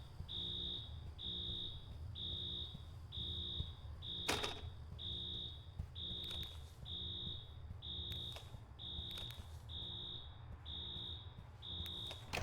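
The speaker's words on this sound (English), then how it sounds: "Now we need to find a way to turn that alarm off." An alarm in Infra beeps steadily in a fast, even rhythm of shrill high tones over a low background hum, repeating without a break through the whole stretch.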